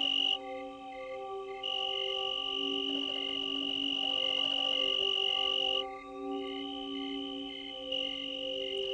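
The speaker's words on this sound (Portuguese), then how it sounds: "Grilos cantam suas canções roçando as duas asas." Tree crickets sing by rubbing their wings together in a continuous, steady high-pitched trill with layered tones, close and clear with no voices.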